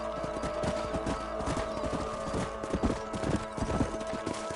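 A horse's hooves clip-clop steadily as it is ridden across open ground in a Wild West video game, an even trotting rhythm under a dense bed of ambient background sound.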